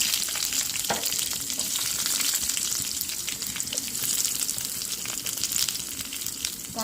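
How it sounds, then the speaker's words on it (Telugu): Finely chopped onions frying in hot oil for poha vada, a constant busy sizzle with occasional clicks and stirring scrapes throughout, and no one speaking. "ఆనియన్స్ వేసుకొని ఆనియన్స్ కూడా వేయించుకున్నాను"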